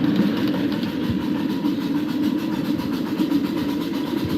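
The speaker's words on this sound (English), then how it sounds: "Here comes another train coming down the opposite direction." A train rolls past on railroad tracks at a heritage railroad, a steady loud rumble with low engine drone and wheel noise filling the whole stretch, no talking.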